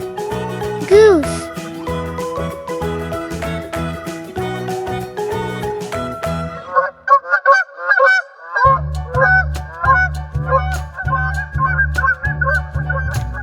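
A goose honks in a quick burst of calls near the start, followed by cheerful children's music with a bouncy rhythm.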